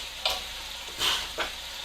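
Beet greens cook slowly over low heat in a pan, giving a soft, steady sizzle broken by three brief scraping stirs, with no talking.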